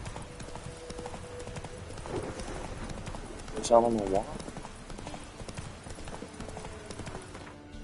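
Horse hooves clip-clop steadily in the game Witcher 3, a regular trotting rhythm throughout, with a brief whinny midway and someone talking over it.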